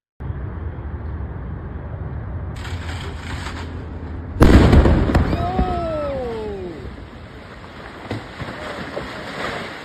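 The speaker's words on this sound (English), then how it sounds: "Without warning, a massive explosion ripped through James Yu's home." A house blows up in a sudden heavy blast that cuts through steady outdoor ambience, followed by a long rumbling decay and falling whistling tones, with a voice briefly audible.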